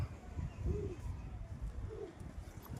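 Two soft, low pigeon coos, a few seconds apart, heard over a murky, rumbling background.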